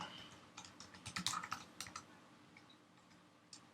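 Typing a name on a computer keyboard: quiet, close, irregular clicks of keys in short clustered bursts, thinning out toward the end with one last tap, no voices.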